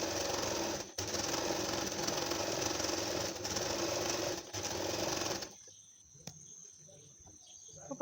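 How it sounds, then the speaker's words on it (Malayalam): A sewing machine runs in a fast, steady whir as it stitches the side seam of a cloth face mask, pausing briefly twice before stopping, leaving quiet handling noises afterward. "4 ഇഞ്ച് തയ്യൽ തുമ്പിട്ട് നമ്മൾ അടിച്ചെടുക്കുകയാണ്."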